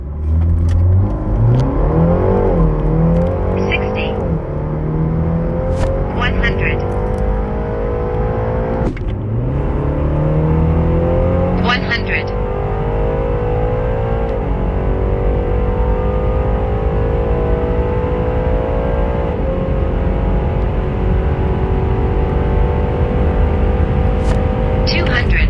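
A tuned BMW 330i G20 Stage 1.5 engine revs hard toward about 7,000 RPM, rising through several pulls and shifts in a loud, continuous drone with a sharp break near nine seconds.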